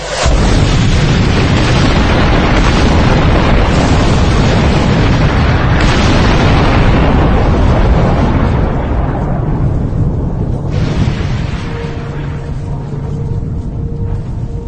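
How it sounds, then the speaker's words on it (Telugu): A bomb strike on a school building in Khomein, Iran, produces a loud, sustained roaring boom and rumble that fills the whole clip, easing slightly toward the end, with no voices audible. "ఒకసారి ఆ భవనానికి పేలుడు సంబంధించిన దృశ్యాలు చూద్దాం."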